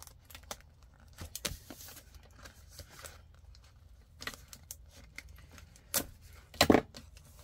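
Plastic packaging around paper pads is cut open with scattered crinkles, snips and taps at close range, ending in a sharper tearing rustle.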